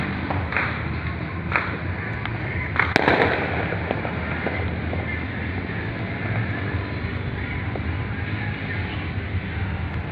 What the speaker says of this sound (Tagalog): natapos na yung fireworks ng Goodbye 2020